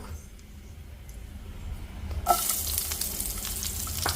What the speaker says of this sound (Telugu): ఆనియన్ పచ్చిమిర్చి వేస్తున్నా